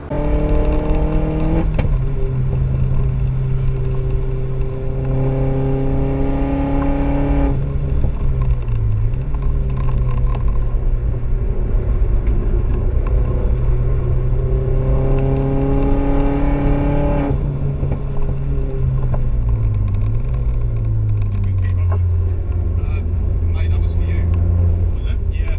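A car lapping the Brands Hatch race track on a test day, engine droning loud and close with rising and falling revs through gear changes, while a voice talks over it.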